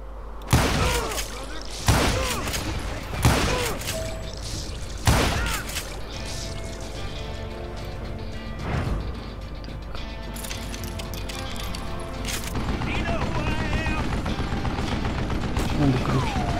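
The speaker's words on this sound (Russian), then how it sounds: "Kid Curry opened up on me with a goddamn Gatling gun" Gatling gun fire in the Western shooter Call of Juarez Gunslinger, several loud sharp gunshot bursts early on over a continuous mechanical game din, with talk throughout.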